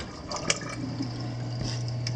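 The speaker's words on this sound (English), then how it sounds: "So the water flows through those notches in the top there into that overflow on the back." Water trickles and splashes steadily into the rear overflow box of a fish-only saltwater aquarium, a continuous close-up wash with a low pump hum underneath and no talking.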